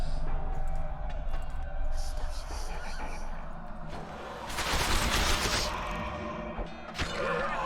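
Battle din from The Witcher 2 with a dense rattle of gunfire, swelling into a loud burst near the middle and returning briefly at the end, over a constant roar of fighting and distant voices.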